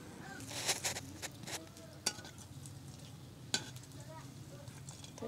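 Boiled potatoes being mashed and mixed with eggs by hand, soft wet squelching and stirring with occasional sharp clicks, quiet and close, over faint background hiss.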